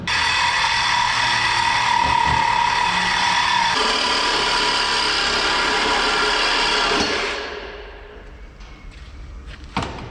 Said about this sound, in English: we got a Sawzall. Let's do some cutting, boys.